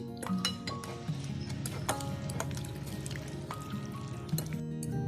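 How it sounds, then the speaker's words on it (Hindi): Utensil clinks and taps against a bowl as pasta ingredients and beaten egg are mixed, light scattered knocks over a quiet kitchen background, with no speech. "ये भी इसमें ऐड कर देंगे और इसको अच्छी तरह मिक्स कर लेंगे हम"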